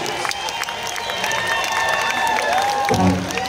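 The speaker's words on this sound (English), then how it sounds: "really, really clap really loudly when it ends" Concert crowd at the Greek Theatre applauding a show, sustained clapping and cheering from a large outdoor audience, with guitar tones ringing and sliding over the crowd noise and a brief louder swell near the end.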